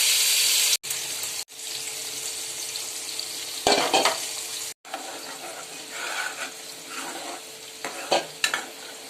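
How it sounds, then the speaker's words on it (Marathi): Fish fries in hot oil in a home kitchen pan, a steady close sizzle with crackling bursts and brief breaks where the hiss cuts out. "तेल गरम झालेलं मच्छी फ्राय करून घेऊया"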